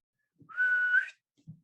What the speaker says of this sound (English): see if I can whistle